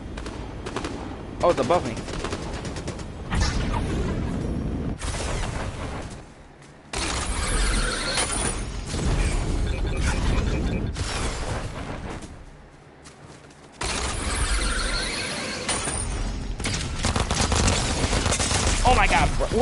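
Gunfire in the video game Fortnite comes in repeated bursts of rapid shots and heavier blasts, loud and up close, with short quiet gaps and a player speaking briefly over it.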